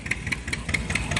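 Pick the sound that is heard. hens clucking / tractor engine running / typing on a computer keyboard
tractor engine running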